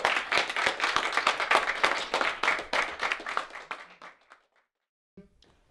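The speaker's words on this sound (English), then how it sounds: "Round of applause." An audience gives dense, steady applause after a poetry reading, the clapping sustained for about four seconds before thinning out and stopping into near silence, with one faint sound at the end.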